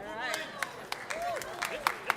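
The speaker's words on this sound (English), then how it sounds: "There's a lot of clapping" Scattered, irregular hand claps ring out over whistling tones and a murmur of background voices.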